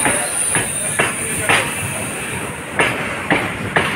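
Rhythmic clickety-clack of train wheels passing over rail joints at a railway station on the route to New Jalpaiguri, with a steady rumble and repeated sharp clacks at close range.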